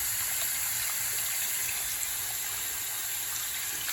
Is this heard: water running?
yes